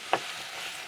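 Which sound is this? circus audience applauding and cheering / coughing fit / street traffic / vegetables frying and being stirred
vegetables frying and being stirred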